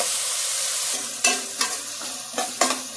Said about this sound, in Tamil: வெங்காயம் வதங்கிட்டு இருக்கு